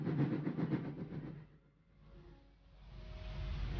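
A train travelling, with a steady rhythmic clatter of wheels over rail joints that briefly dips and then swells again as a continuous rolling rumble, heard alone.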